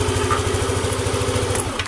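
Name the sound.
Yamaha Vixion motorcycle engine starting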